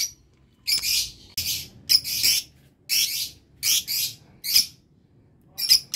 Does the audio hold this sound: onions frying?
no